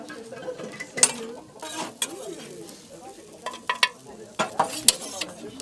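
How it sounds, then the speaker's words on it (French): Julienned vegetables stirred and sautéed without fat in a pan during an in-store demonstration, with scraping utensil strokes, sharp clinks and a soft sizzle scattered over several seconds, close and moderately loud, with some faint voice in the background. "on va tailler nos petits légumes en julienne et derrière, on va les faire revenir sans matière grasse"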